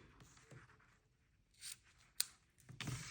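Scissors snip through two-tone green ribbon in a few quick, faint cuts, with soft rustles between them in a quiet room.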